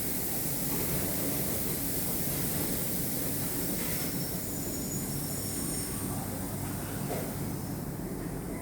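A Stockholm train runs into its final station, giving a steady loud rumble of wheels on rails with high metallic squealing throughout as it rolls in close by.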